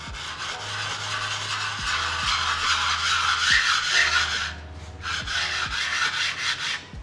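Steady rasping strokes of a sharpening tool drawn along a medieval-style Damascus steel sword blade, repeated back and forth in an even rhythm, close and fairly loud with no talking.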